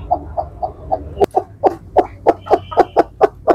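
A desi hen brooding on layer eggs clucks in short, soft pulses, close by, first spaced out and then quicker and louder in a steady run.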